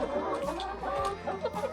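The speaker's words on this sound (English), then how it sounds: "I got that salmon Faverolles rooster there." A salmon Faverolles rooster clucks in short bursts close by, several quick throaty calls with faint background noise.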